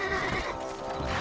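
A horse in the Red Dead Redemption video game neighs and whinnies in a close, full burst lasting about a second, with faint hoof clip-clop and game sound beneath.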